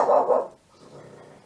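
Dog barking indoors: a couple of quick loud barks close by, then a quieter muffled huff or whine trailing off.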